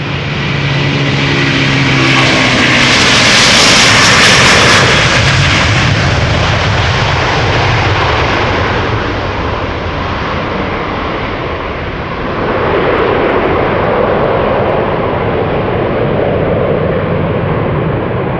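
A 21-year-old Delta Airlines Airbus A330-300 departs from Amsterdam Schiphol up close, its jet engines sending out a loud, sustained roar that peaks early and then slowly fades as the aircraft climbs away.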